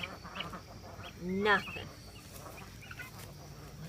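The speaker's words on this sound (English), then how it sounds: "I'm coming to tuck the ducks in" Ducks at dusk give one short, close quack-like call, with a few fainter calls nearby against a quiet outdoor background, and a voice speaks briefly.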